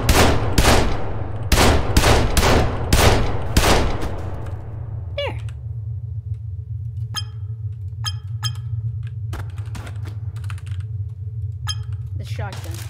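A shotgun fires repeatedly in the physics sandbox game People Playground, with several sharp, loud blasts in quick succession at the start, then sparser clicks and impacts over a steady low hum.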